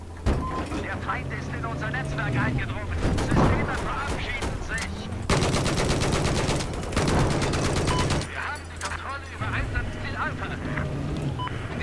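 Dense gunfire and explosions in the Battlefield 4 video game, with heavy continuous shooting and rumbling blasts, loud and close throughout, while someone talks in German.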